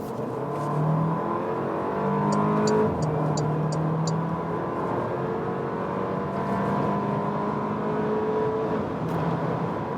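A Porsche Macan SUV accelerates hard on a motorway, its engine note rising through the gears with a steady, loud interior drone and road roar, heard from inside the cabin without talk.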